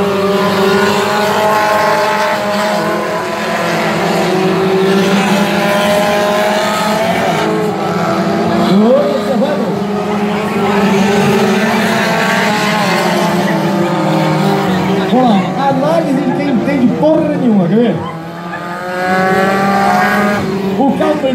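Light-category race cars on a dirt track at Jacaraípe roar past with engines revving up and down in sweeping pitch changes, brief tire squeals and skids, loud and close, with an announcer talking over the noise.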